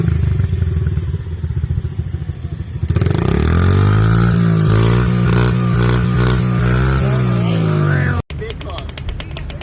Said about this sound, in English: Let me get a vroom vroom.